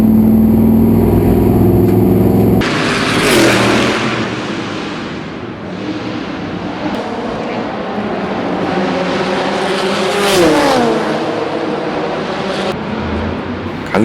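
A battered, damaged race car with a misbehaving engine runs on a circuit during a race. It roars loudly and continuously, with rough, gunfire-like crackle and a rising-then-falling engine sweep near the end, and no voices.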